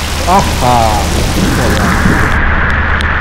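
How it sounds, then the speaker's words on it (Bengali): Heavy rain pours down in a village, a loud, constant wash of noise throughout, with a voice talking briefly near the start. "প্রচণ্ড বৃষ্টি আসছে"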